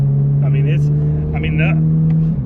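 Chevrolet Corvette C8 Z06 heard from inside, a steady low engine drone with brief rising whines as it accelerates and shifts, voices talking over it.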